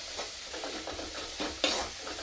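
Spices and tomato fry in a hot pan for a jackfruit-flower curry, with a steady sizzle broken by a few soft stirring scrapes and one sharper clatter near the end.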